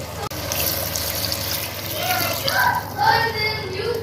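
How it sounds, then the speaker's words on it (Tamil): Water pouring steadily into a pot of mutton thani kuzhambu curry, a close, continuous gushing splash that swells slightly toward the end. "இப்போ தான் வந்து நம்ம தண்ணி ஊற்றணும் தேவையான அளவுக்கு."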